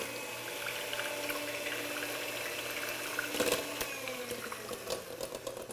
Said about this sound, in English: Blend it up one more time.